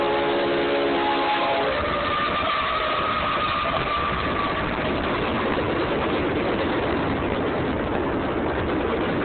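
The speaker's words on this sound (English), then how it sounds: "Of course I had to be stuck at the train." A freight train rolls past a level crossing, heard from a waiting Audi TT: a long horn blast at the start gives way to a loud, continuous rumble and clatter of wagons, close and steady.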